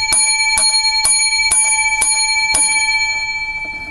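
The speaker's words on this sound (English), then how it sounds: "Seven lucky bells for this week's progressive discussion." A bell is struck six times at a steady half-second rhythm during a progressive discussion livestream, each ring bright and close with a lingering metallic shimmer that fades out at the end.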